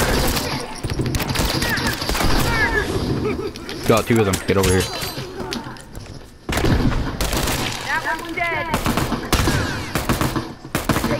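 Gunfire from The Last of Us multiplayer, a few sharp shots and bursts scattered among close, excited voices talking throughout, with loud busy game noise around them.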